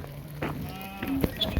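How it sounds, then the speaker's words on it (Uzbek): Pregnant ewes, two to three months in lamb and newly arrived in Tepaqo'rg'on, Namangan region, give several short bleats, close by, against a quiet farmyard. "Mana qo'ylarimiz ham yetib keldi"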